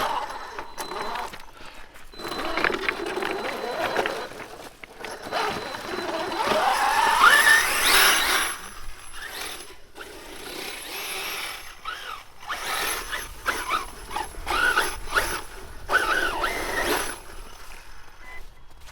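Brushless Losi 5T RC car driving through snow, its motor whining and rising as it accelerates, with mechanical whirring and ratcheting and occasional voices nearby.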